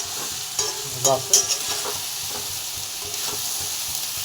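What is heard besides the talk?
pigeon meat frying with banana flower, sizzling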